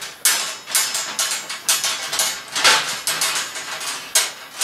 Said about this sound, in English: I'm going to release the clamp.